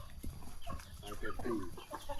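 A fighting rooster clucks in short, faint, uneven bursts nearby, with murmured voices and light background noise around it.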